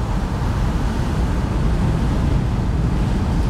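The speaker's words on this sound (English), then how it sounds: "Yeah, it's a different wind noise, I have to say." Dense, roaring wind noise buffets a Mercedes C-Class C400 Cabriolet driving with the top down, loud and unbroken throughout.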